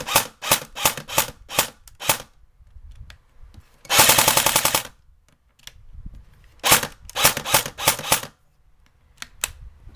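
A CSI/JG AK-47 airsoft rifle firing in blowback mode lets off several close, loud bursts of rapid mechanical clatter, with short pauses between them and one longer continuous burst near the middle.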